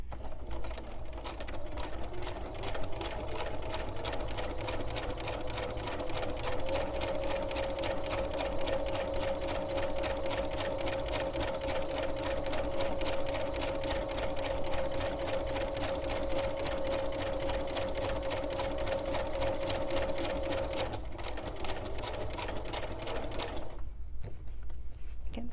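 A domestic sewing machine stitching steadily around the edge of a piece of fabric, a fast, even mechanical rattle running loud and continuous for over twenty seconds before it stops, with a steady whine underneath.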